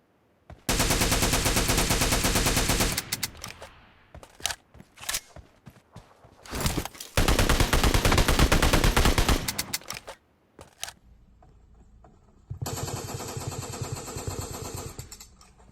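SLR and SKS semi-automatic rifles in PUBG Mobile, each emptying its magazine in rapid bursts of a few seconds, loud and close, separated by short gaps and single shots.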